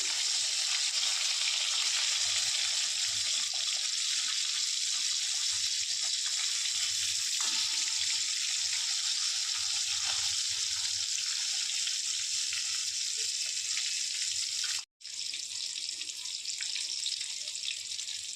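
Pieces of snakehead (shol) fish fry in hot oil, a steady close sizzle with faint pops, briefly cut off before continuing.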